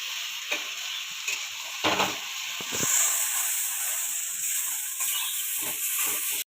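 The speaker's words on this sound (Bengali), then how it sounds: "এবার ডালটা বেটে নিয়েছিলাম ওটা ঢেলে দেবো কড়াই" Ground lentil paste goes into a hot wok of oil and bursts into a bright, hissing sizzle that holds steady, with a few scrapes and taps from stirring and no voices.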